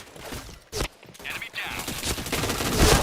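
Bursts of rapid gunfire from the video game Point Blank, dense overlapping shots that crowd a noisy mix and build toward the end.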